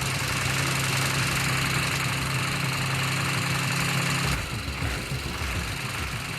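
Detroit 6V53 two-stroke 5.2-liter V6 diesel in a modded 1936 Chevy, running with a loud, steady, dense drone that shifts abruptly to a rougher, lumpier tone near the end.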